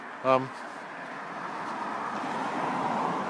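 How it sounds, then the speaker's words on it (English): Passing road traffic, a soft continuous roadway rumble that swells gradually at a moderate distance, with a brief voice near the start. "So now we've got a little bit of traffic."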